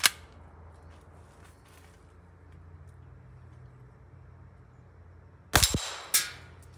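Outdoor shooting range with a faint, quiet background, then two sharp loud reports about half a second apart, each followed by a ringing metallic ping from a steel target.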